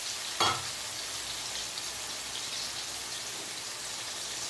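Fish frying slowly in oil over lowered heat gives a continuous soft, even sizzle with a brief clatter near the start, then steady crackling alone.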